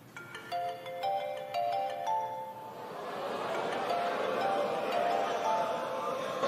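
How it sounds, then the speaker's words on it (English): A mobile phone ringtone chimes in a stand-up comedy audience, a melodic run of bright notes over the first few seconds that fades into crowd noise. "Go on and answer your phone"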